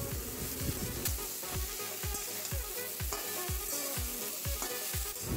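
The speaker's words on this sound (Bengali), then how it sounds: "5 মিনিট মতো রেখে দেখো আনাজগুলো মোটামুটি ভাজা হয়ে গেছে।" Vegetables for Bengali shukto fry in a pan with a steady close sizzle, marked by a regular run of soft thumping stirs roughly every quarter second.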